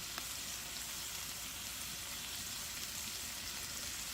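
Freeze-dried potatoes fry in a pan, a steady, even sizzle and crackle holding at moderate loudness throughout, with no talk over it.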